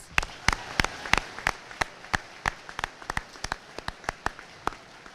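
A graduation-ceremony audience applauding at a school event, a thin scattering of separate claps, sparse and irregular, moderately distant in a large room.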